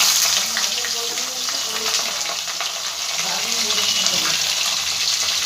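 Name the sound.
potatoes and bitter gourd frying in hot white oil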